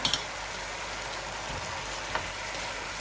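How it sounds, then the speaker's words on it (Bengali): Chicken frying in a little oil in a pot: a constant, close, even sizzle like light rain, with a few faint clicks near the start. "আমি চিকেনগুলোকে ভালো করে ফ্রাই করে নিই"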